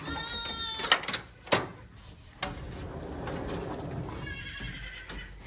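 Goats bleating amid a farm crowd, with loud, wavering cries near the start and again toward the end over a busy background of shuffling and movement.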